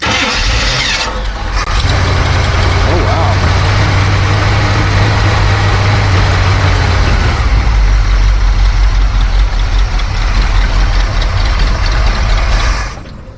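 A classic milk truck engine turns over and catches, then idles loud and close with a steady low throb, the throttle blipped to raise the revs before it settles and cuts off near the end.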